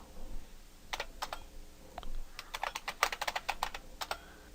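A computer keyboard typed on in short, quick bursts of crisp key clicks as a terminal command is entered, with a brief pause and a faster flurry near the end, close and clear with no voices.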